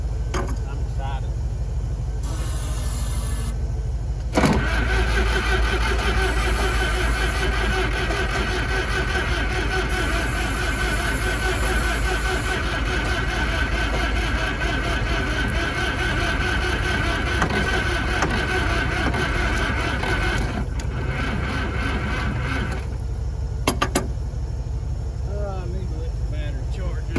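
Case 770 Gold Demonstrator tractor engine running at a steady, loud, rumbling idle for the whole stretch, with a person talking over it.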